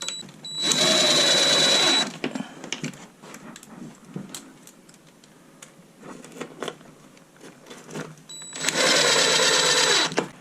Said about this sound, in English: And now I'm gonna do the pocket holes here.